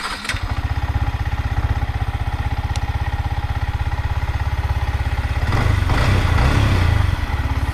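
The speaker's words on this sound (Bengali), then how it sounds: "চলেন এখন বাইকটা স্টার্ট দিয়ে আর একটু রাইড করে দেখি" A stock Yamaha MT15 V2 BS7 155 cc motorcycle idles close by with an even, rapid thumping beat, then is revved up briefly before it settles back to idle. No one speaks.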